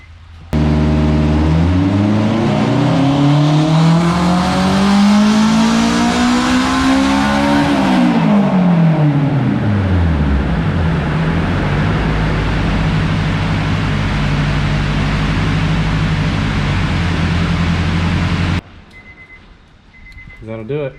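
A turbocharged Acura RSX with a quarter million miles, pulled hard during tuning: the engine screams up through the revs, then drops back and drones on before cutting off abruptly.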